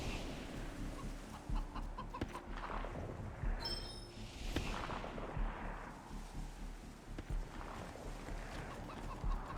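Soft, intermittent clucking from a chicken in a wasteland video game, scattered over about ten seconds amid low ambient rumble and a few sharp thuds, with no voices.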